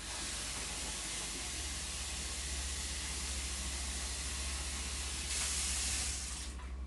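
Tap water runs steadily over potatoes being rinsed in a kitchen, a constant close hiss that swells briefly near the end.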